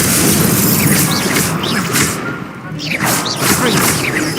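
An Incendio fire spell cast in a Harry Potter video game roars as a loud, dense rush of whooshing, crackling blasts with thuds, dipping briefly midway before surging again.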